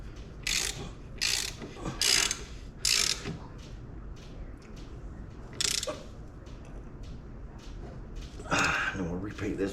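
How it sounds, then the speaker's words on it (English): A ratchet tightens a bolt on a Kangook Amaruk XD snowmobile with a Polini Thor 202 engine, giving several bursts of loud close clicking separated by pauses, with a person speaking at times. "Now we'll tighten this one."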